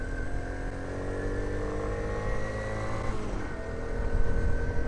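A postie motorcycle ridden in second gear gives a steady, close engine drone with a brief shift in tone partway through, then continues evenly.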